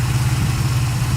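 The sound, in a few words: Mercedes Benz W124 coupe engine idling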